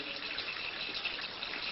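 Water rushing steadily through a vertical pipe, a constant close hiss of flow with no breaks.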